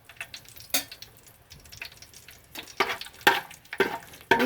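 Cashews and raisins sautéing in ghee in a pan, a light crackling sizzle punctuated by several sharp scrapes of a spoon stirring, close up with no voices.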